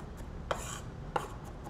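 A kitchen knife strikes a cutting board while garlic is chopped and minced, two distinct close taps about half a second apart over a soft background hiss.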